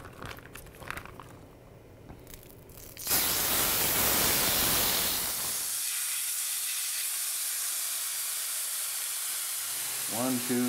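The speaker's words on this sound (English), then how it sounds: "we're going to get our first crane breast in there just to get things rolling." Crane breast dropped into a smoking-hot pan, bursting into a loud, sustained sizzle and hiss after some quieter handling sounds, close and steady until a faint beep near the end.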